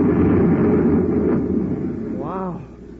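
A deep, rumbling explosion from a radio drama roars loudly and slowly fades, with a brief tonal voice-like sound near the end.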